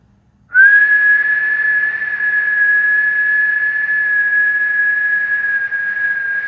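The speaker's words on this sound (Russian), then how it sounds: "Создадим некое препятствие на пути самопроизвольно выходящего из нас воздуха в виде сомкнутых губ." A single steady, high whistling tone of breath forced through pursed lips, starting abruptly and holding nearly constant pitch for several seconds.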